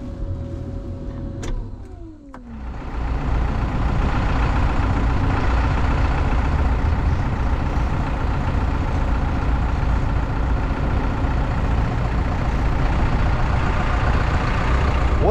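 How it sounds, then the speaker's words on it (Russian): A Caterpillar 444 backhoe loader's diesel engine turns over and catches with the ignition, then settles into a steady, close, rumbling idle that runs on evenly. "Включаем зажигание, и он у нас работает"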